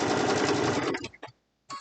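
A sewing machine stitches fabric for a pen holder, running in a steady fast buzzing burst, then stopping in short stuttering pulses and starting again briefly, close and clear.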